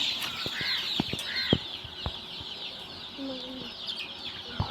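Several chickens on a home poultry farm cluck and cackle close by in short irregular calls over a busy outdoor background.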